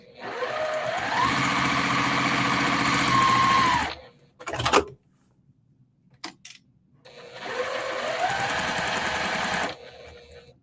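Sewing machine stitching a quilt block, two loud close bursts of steady whirring with speed changes, separated by a quiet gap holding a few clicks and knocks.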